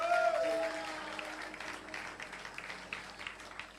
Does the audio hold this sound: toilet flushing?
no